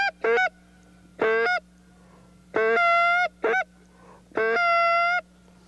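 Canada goose call blown with building air pressure into full, raspy honks, five separate loud calls, some doubled, in a steady rhythm with short pauses between, close and clear.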